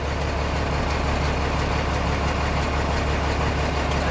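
A Class A truck engine idles steadily during a parking brake test with the clutch lightly engaged, a loud, even, low diesel rumble with a faint rhythmic ticking above it.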